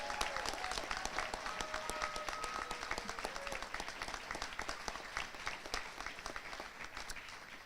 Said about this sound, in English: Let's give one last final congratulatory round of applause to the School of Global Studies graduating